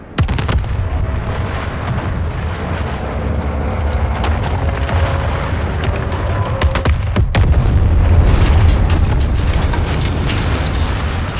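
Artillery fire in the video game Battlefield 6, a sustained loud barrage of deep booms and rumbling blasts with sharp cracks around the middle, continuous for the whole stretch with no talking.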